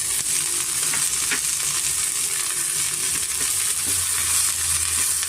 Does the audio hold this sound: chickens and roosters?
no